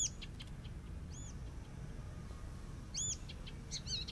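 Small bird chirps sound outdoors in short, bright calls, a few separate chirps spread over several seconds against a steady, low background rumble.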